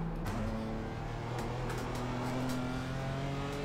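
Race car engine in the iRacing sim at the Nordschleife, a steady droning note holding loud and continuous throughout with slight pitch shifts as it eases off the throttle, no talk.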